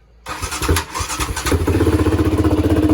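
A sport quad's engine cranks briefly and catches, settling into a close, steady, loud idle with a rapid pulsing rhythm, no talking.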